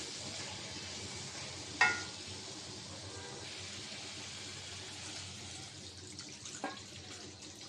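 Broth poured into spiced potatoes in a pan for a Bengali nola fish curry with potatoes and tomatoes, giving a steady watery pouring and bubbling wash with a sharp clink near the start and a softer knock later, no voices.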